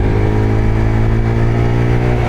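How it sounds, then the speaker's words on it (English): A motorbike passes in traffic, its engine a loud, steady mid-pitched drone with a strong harmonic hum that holds close and constant throughout, no voices. "And there's a motorbike."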